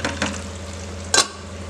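Pesarattu onion and chili mixture frying in a pan, a soft steady sizzle with a few scraping stirs, one sharper stir or clank standing out near the end.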